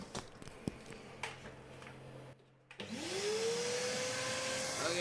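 A vacuum sucking jelly-like water out of a leaking aircon unit: after a brief quiet gap, the motor spins up with a rising whine into a loud, steady suction roar, preceded by some handling clatter.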